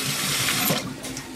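Water sloshes as rice is rinsed in a bowl, a steady close wash of splashing and swirling liquid with no voices.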